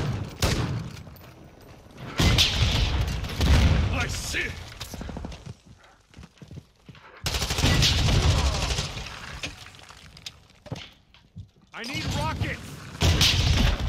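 Bursts of gunfire and heavy booms in Call of Duty DMZ, loud clustered volleys broken by quieter stretches, with voices talking in between.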